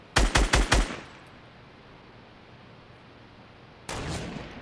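A gun firing in Fortnite, a rapid burst of four loud close shots, then quiet, then another shot or blast near the end.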